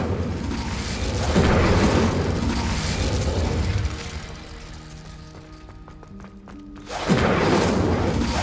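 The Incendio fire spell in Hogwarts Legacy, heard as a loud, rumbling fiery burst that gives way to a quieter tonal passage before another booming flare of flame erupts near the end.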